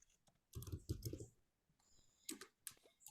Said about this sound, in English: So we type in duration.